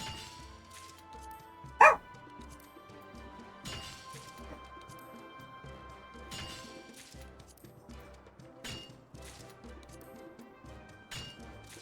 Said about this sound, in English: It's a dragon barking.